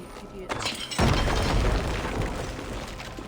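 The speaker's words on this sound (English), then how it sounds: "There's a new explosion." An explosion in Assassin's Creed Valhalla: a sudden, heavy, broadband boom bursts in after a short lead-in, then leaves a loud, rumbling tail of debris.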